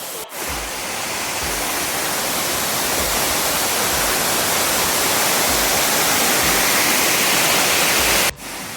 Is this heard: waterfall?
yes